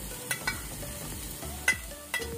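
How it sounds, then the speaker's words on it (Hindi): Chicken and vegetables are stir-fried together in a pan for spring roll filling: a continuous low sizzle with a few sharp scrapes and knocks of a spatula against the pan, close by and without speech. "और उसको आपस में मिक्स कर लेंगे ताकि सब्जियों के साथ ये भी मिक्स हो जाए और हल्की हल्की सी ये भी फ्राई हो जाए"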